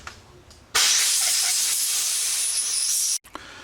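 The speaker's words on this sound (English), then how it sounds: "I'm going to very gently with light air pressure blow this out." Light compressed air blowing out the fuel filter screen of a STIHL FS45C trimmer carburetor, a loud steady hiss lasting over two seconds that cuts off abruptly, followed by a brief short puff.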